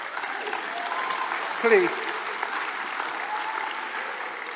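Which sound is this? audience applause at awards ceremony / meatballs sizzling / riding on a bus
audience applause at awards ceremony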